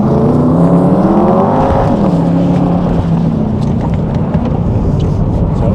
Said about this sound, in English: this has a catback exhaust system on it, and you'll hear it go around the track